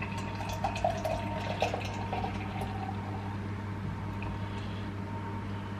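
Running tap water splashes steadily as a beer glass is rinsed out underneath, a continuous close wash with a few brighter clinks and splatters early on, alone with no talk.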